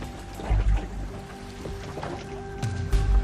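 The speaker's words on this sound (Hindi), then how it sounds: "कश्ती पानी से भर गई है।" Water pouring and splashing into a stalled boat on a river, a steady close wash of liquid with a few heavier sloshing thumps, no voices.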